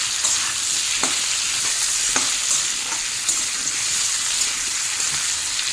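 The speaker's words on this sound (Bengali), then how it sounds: "আলু 3 মিনিট ভেজে নিয়েছি। এখন এর মধ্যে দিয়ে দেবো কেটে রাখা ডাঁটা।" Moringa drumsticks and potatoes fry in hot oil, a steady bright sizzle close by with occasional soft clicks from stirring.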